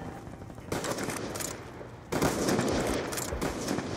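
Shotgun gunfire in Black Ops 2: two dense bursts of rapid, crackling shots, the second louder and longer, close and continuous.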